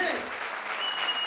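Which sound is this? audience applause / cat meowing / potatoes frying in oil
audience applause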